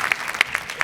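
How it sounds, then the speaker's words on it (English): A handful of separate hand claps from an audience at a self-care and performance talk, sparse and brief, as an applause round starts to build. "Let's give Ariel a round of applause."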